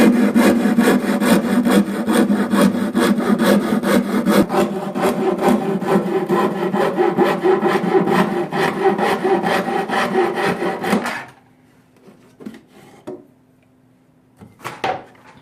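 Dremel tool blade sawing through wood, making a loud, continuous, rasping buzz for about eleven seconds. The cut then stops and a few faint scrapes and a low hum remain, with no talk.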